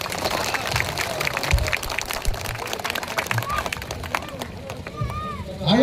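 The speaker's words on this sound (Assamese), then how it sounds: "আপোনালোকে সকলোৱে এটা হাত তালি বজাব।" Applause and cheering from an audience at an outdoor political rally and election meeting at a market in Assam, a steady clapping wash mixed with crowd babble, fairly loud and continuous throughout.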